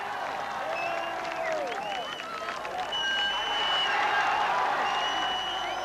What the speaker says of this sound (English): the city abandoned work and simply clapped and cheered as the McGuigan cavalcade made